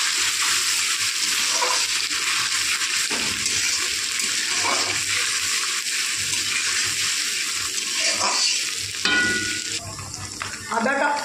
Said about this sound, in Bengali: আদা কাঁচা লঙ্কা বাটা ভাজা হয়ে গেছে